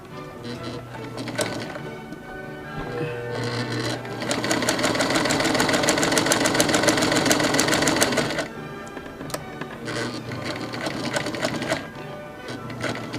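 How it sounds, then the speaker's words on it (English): A sewing machine back stitches at its largest stitch length while sewing a wrap dress, a steady close mechanical whir with rapid needle clatter running in bursts, loudest through the middle stretch. "on my largest stitch length, I'm actually going to back stitch on this side."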